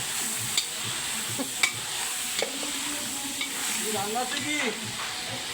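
Spiced meat being stirred and fried in a pan, with a steady sizzle and scattered scraping clicks from the utensil, fairly close but moderate in level.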